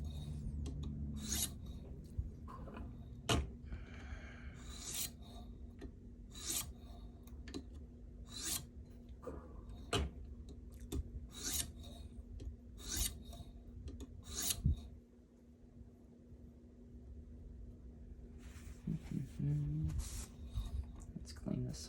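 A Spyderco knife of CPM Rex121 steel grinds on worn CBN sharpening stones in quick rasping strokes, a steady scratchy rhythm with a low hum underneath that stops near the end.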